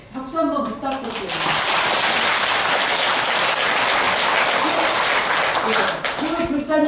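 An audience at a Buddhist temple dharma service claps in a full, dense burst of applause for several seconds, framed by someone talking briefly before and after.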